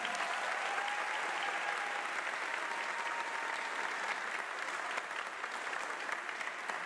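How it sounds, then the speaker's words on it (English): Sustained audience applause at a music academy recital, dense and steady for the whole stretch without pause, a faint sustained tone drifting underneath. "Give it a round of applause."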